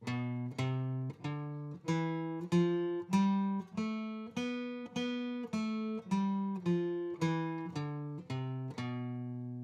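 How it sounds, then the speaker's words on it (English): A B Locrian scale is played on guitar, about fifteen clear single notes plucked one by one at an even pace, each ringing briefly before the next. "the B Locrian scale"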